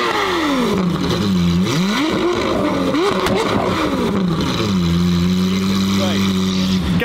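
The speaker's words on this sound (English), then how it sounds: "Straight pipe V12 times two" A loud straight-piped Lamborghini Aventador V12 revs repeatedly in Beverly Hills, pitch climbing and falling in throaty swells, settling into a raw, straight-piped idle; voices murmur beneath.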